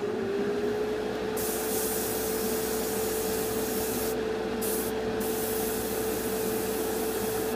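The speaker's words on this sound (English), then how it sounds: "this airbrush is not exactly brilliant" An airbrush sprays paint onto a Revell Colonial Viper Mk.II model kit, a steady close hiss in short and longer passes over a constant fan hum, with no talking.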